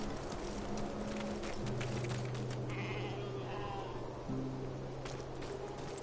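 Sheep-like bug creatures in Tails of Iron 2 bleat in long, steady, droning calls, overlapping one another above a constant dense background wash.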